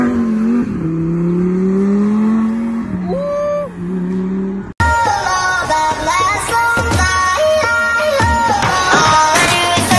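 A brand-new Lamborghini engine revs loudly, rising and falling in pitch, then roars with harsher, busier engine noise in the second half, close and strong with no talking.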